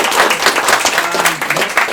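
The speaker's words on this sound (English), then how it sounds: "So again, let's give these guys a round of applause." An audience at a museum summer talk series gives a round of applause: steady, dense clapping from a roomful of people, close and loud, with no speech over it.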